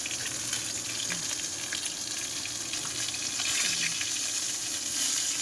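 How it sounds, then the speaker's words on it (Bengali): Fish sizzling and spattering in a pan of hot oil, a steady crackling hiss with sharp pops scattered throughout, close and fairly loud. "তেল ছিটকাচ্ছে, প্রচুর তেল ছিটকাচ্ছে, ভয়ও করে এই মাছ ভাজতে গেলে।"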